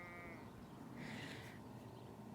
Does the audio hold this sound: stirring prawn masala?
no